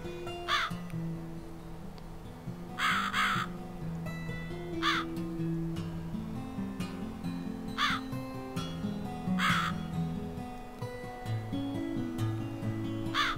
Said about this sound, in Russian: Опять ворон.